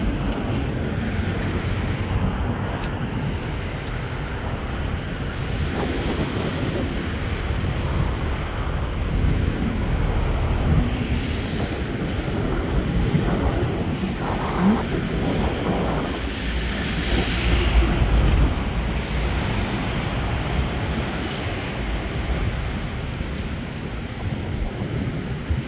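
Sea water sloshes around a fishing boat with continuous wind buffeting the microphone, making a steady, dense rush with no pauses.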